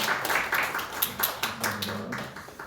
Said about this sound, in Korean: 우리 환영의 박수 한번 드릴까요?